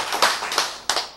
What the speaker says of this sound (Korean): 그래서 박수 하세요